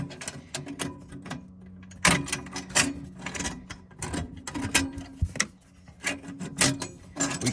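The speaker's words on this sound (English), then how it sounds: "We can throw our clamp around there, get it started here, get it in position" A metal clamp is worked around the turbo up-pipe of a 700 hp 6.0 Powerstroke dually, with close, dense clicking, rattling and scraping of metal parts in irregular bursts and no talking.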